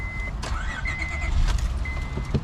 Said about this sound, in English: I'm gonna start it up here while I got you.